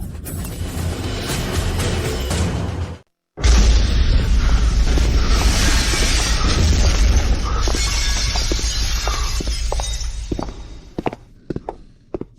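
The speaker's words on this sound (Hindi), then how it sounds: "धमाके की आवाज" An explosion sound effect in a Hindi audio story, a heavy booming blast with shattering debris that cuts in abruptly after a brief silence, then rumbles and fades into scattered thuds.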